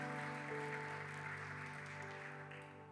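A church congregation applauds a pastoral couple celebrating 30 years of marriage, a steady, faint wash of clapping over a sustained organ-like tonal hum, tapering slightly at the end.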